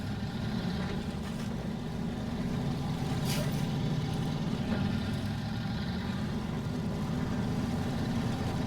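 A GMC truck drives in the off-road game Snowrunner with a steady, loud engine drone that holds throughout. A brief hiss is heard partway through.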